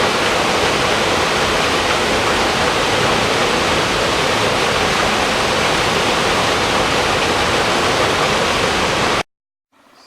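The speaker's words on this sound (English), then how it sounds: "Beautiful waterfall." Screw Auger Falls in Gulf Hagas, Maine, roars with a dense, even rush of falling water, loud and close, cutting off abruptly near the end.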